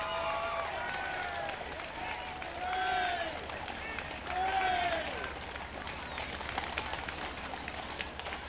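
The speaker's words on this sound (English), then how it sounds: "Cheers from a crowd" A parade crowd cheers and claps in a broad, distant wash, while rising whistle-like tones swell twice in the middle and an announcer talks over it.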